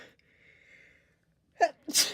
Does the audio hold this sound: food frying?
no